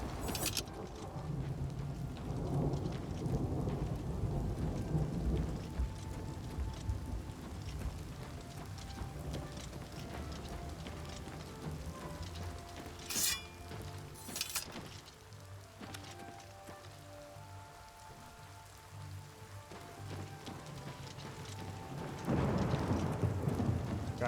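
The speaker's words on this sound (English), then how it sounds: "That thunder sounds natural, the rain sounds somewhat natural." Steady rain and rumbling thunder fill a stormy outdoor ambience in the PC game Oblivion Remastered, with dense continuous rainfall throughout and two sharp thunder cracks near the middle, the storm swelling louder again toward the end.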